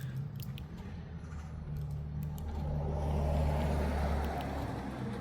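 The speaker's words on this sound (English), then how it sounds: "that car didn't stop at all." A car drives past on a street without stopping, its low engine and tire rumble swelling through the middle and easing off at the end, with no talking.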